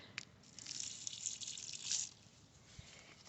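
Water pours onto potted flowers around a pool, a close splashing gush that builds for about two seconds, then stops, leaving faint drips and a quiet outdoor background.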